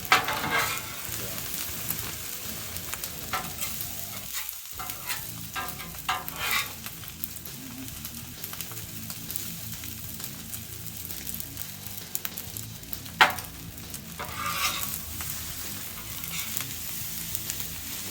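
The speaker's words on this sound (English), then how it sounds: "Let it fry up here for a minute." Fried rice spread out in a pan sizzles softly and steadily, with intermittent scraping and stirring of a utensil against the pan and a few sharper clinks, close but fairly quiet, no voices.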